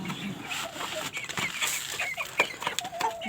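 Chickens and chicks cluck and peep close by in a busy, irregular stream of short calls over soft background rustling.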